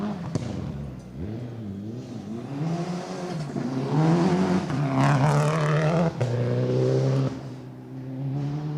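Mitsubishi Evo rally car on a stage of the Gippsland Rally, its engine loud and close as it revs and accelerates, pitch rising and falling through gear changes, with a brief dip before it surges again.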